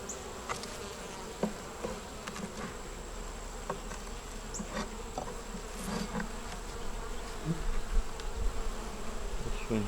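Honey bees buzz continuously around a hive frame with foundation, a dense close hum with individual bees droning past, loudest toward the end.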